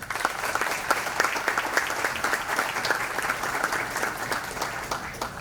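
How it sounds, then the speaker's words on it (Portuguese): An audience at a formal historical institute ceremony in Piracicaba breaks into sustained applause, with dense steady clapping filling the room from start to finish. "Uma salva de palmas."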